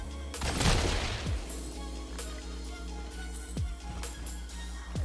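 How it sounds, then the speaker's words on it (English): Gunfire in Destiny 2 as shots hit glowing wall nodes inside Temple of the Wrathful, a burst of rapid shots followed by several sharp single reports spaced a second or so apart over a steady game ambience. "keep to the right, shooting the nodes on the wall to light the path in front of you"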